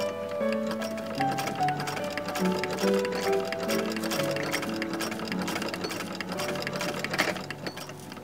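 A domestic sewing machine seams together fabric pieces for a Victorian-style Slytherin robe, producing a steady, rapid ticking needle rhythm that runs continuously at moderate volume, with music playing underneath and no talking.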